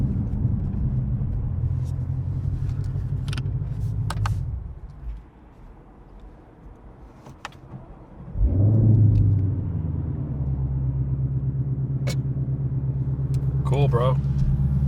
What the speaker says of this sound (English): I pushed the gas down for the first time, and it immediately started to misfire.